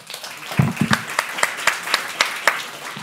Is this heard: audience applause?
yes